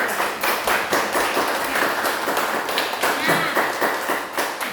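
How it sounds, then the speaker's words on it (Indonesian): Schoolchildren of class 4A clapping their hands together in a classroom, a loud, dense patter of many small hands at close range with voices mixed in. "Tepuk tangan untuk anak."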